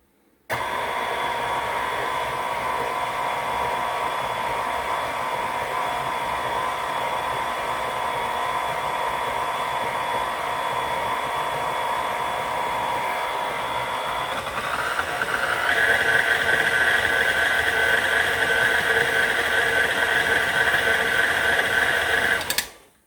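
Stand mixer with a dough hook kneading moist French bread dough, a steady high motor whine running for about twenty seconds, rising in pitch and loudness partway through, then stopping abruptly.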